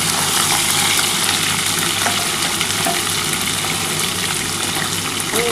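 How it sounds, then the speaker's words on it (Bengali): Drumstick stalks tossed into a pan of frying potatoes with green chillies, a loud, continuous close sizzle with steady crackling throughout and no talking. "দেখো এবার আমি এর মধ্যে সর্ষে ডাঁটাটা দিয়ে দিচ্ছি।"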